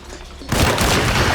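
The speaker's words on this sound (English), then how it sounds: "We're shooting it" Loud gunfire in the horror game Alone in the Dark erupts suddenly after a quiet moment, a close, booming blast with a heavy rumbling tail.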